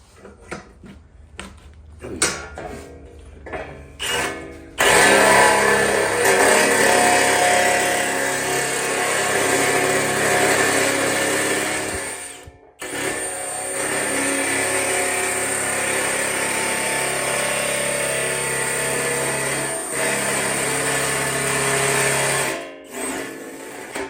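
A Bad Dog power tool cuts through thick sheet metal clamped in a vise, with a loud steady grinding whir that runs for long stretches, stopping briefly before starting again, preceded by a few short clattering bursts.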